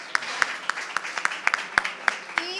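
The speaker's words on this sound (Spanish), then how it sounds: "Pido un fuerte aplauso para ellos." Applause for speakers at a statistics presentation: a handful of distinct, evenly spaced claps ring out one after another, fairly close and sparse rather than a full crowd.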